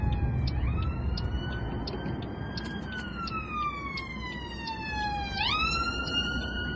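Emergency vehicle siren wails through a town street, its pitch sweeping up and down and shifting as it passes, heard from inside a car over a low engine and road rumble.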